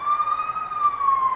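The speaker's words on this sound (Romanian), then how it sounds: "Mulțumim, doamna ambulanță, s-a văzut și lumina acolo." An ambulance siren wails as the vehicle passes along a street. A single sweeping electronic tone glides gently up and down at moderate loudness, with no voices.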